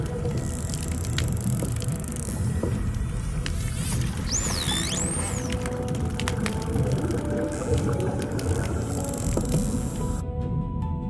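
Dolphin signature whistle, a short rising-and-falling tonal whistle heard once over dense underwater crackle and hiss, moderately clear for about a second.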